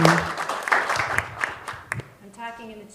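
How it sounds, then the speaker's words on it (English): An audience at an art competition awards evening gives a round of applause, a fairly near burst of clapping that fades out as a voice starts talking. "give another round of applause"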